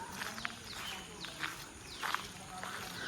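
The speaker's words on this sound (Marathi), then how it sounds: "आम्ही चालतोय तो पावलांचा आवाज देखील येतो मित्रांनो." Footsteps on a forest path near Hemalkasa fall as a few soft, uneven crunches, about three spread over a few seconds, set against a steady bed of insect and bird sound.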